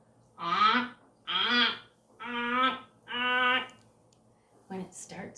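Four loud, drawn-out goose honks come in a steady row, each a rising and falling call, followed by a shorter fifth honk.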